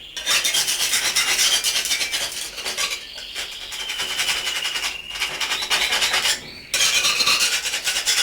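A metal spatula scraping an old anti-slip stair nosing off a step, steady harsh rasping strokes close up with brief pauses, loud and continuous with no talking.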